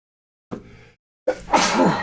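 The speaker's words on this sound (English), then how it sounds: "Ooh, thought I was going to sneeze." A short breathy sound, then a sharp, explosive sneeze bursting out close by, loud and harsh.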